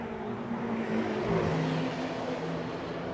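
Two BMW X5 M SUVs, an F85 and an E70, launch side by side at a drag race, a loud, steady roar of engines building under the start with a brief swell midway.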